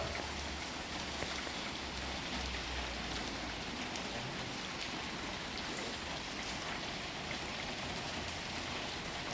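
Steady rain falls continuously, a dense hiss of drops spattering on surfaces throughout, with no voices.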